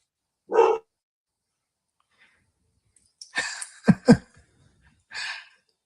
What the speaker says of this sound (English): Is that Maggie barking